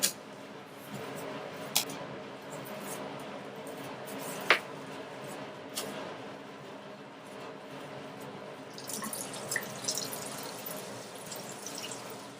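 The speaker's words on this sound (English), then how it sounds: "you're going to wash your pieces thoroughly" Duck pieces rinsed under cold running tap water, a steady close splashing with occasional sharper drips and squishy handling noises, no talk.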